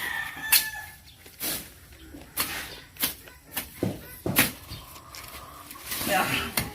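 A chicken crows and clucks outdoors in a rural setting in Batangas, with several short bursts scattered through the clip, mixed with people talking and background noise.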